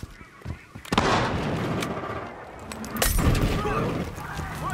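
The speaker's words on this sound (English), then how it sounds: "Throwing incendiary!" An incendiary grenade thrown in the game Battlefield Hardline during a bank job conquest match, giving two loud bursting impacts with crackling fire and combat noise, under game voices.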